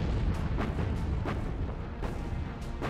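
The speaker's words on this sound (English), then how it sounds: "Her 8-inch guns hurl their 260-pound projectiles 5 miles across the sea" A World War Two cruiser's 8-inch naval guns fire during an island raid, heard as repeated distant booms, roughly one every half second or so, rolling under a constant heavy rumble of battle noise.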